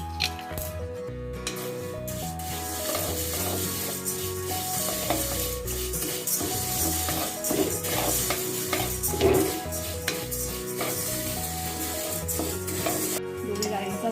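Urad and moong dal dry-roasting together in a pan for chakli bhajani flour, stirred steadily with a spoon, with a soft continuous scraping and rustle over a dense kitchen backdrop that runs the whole time.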